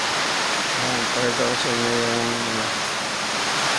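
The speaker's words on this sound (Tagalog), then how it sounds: "lakas na yung lakas ng hangin at ulan." Typhoon Paeng's strong wind and heavy rain hiss as a steady, dense wash of noise heard from a window in Quezon City, while someone speaks briefly over it.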